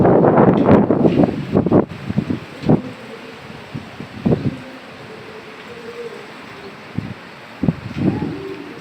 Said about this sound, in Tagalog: Malakas ang hangin, umuulan, uminit.